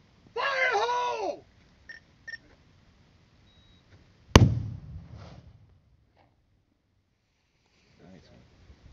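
A blow-in-place detonation of two 37mm HE rounds goes off as a single sharp, loud blast with a rumbling decay, after a shouted warning voice and a quiet pause; distant voices follow faintly.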